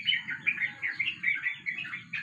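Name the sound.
young pigeon chirping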